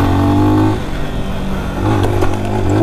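Lifan X-Pect fuel-injected enduro motorcycle engine revving hard while riding, a loud steady drone that drops briefly then climbs again in pitch as the throttle opens.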